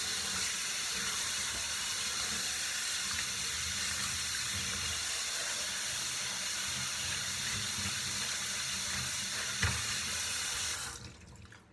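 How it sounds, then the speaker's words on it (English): A Toyota snapback hat, its brim treated with OxyClean, is rinsed under a running tap. The water rushes in a steady, close, unbroken stream for about eleven seconds, then cuts off abruptly at the end. "So we'll rinse this off."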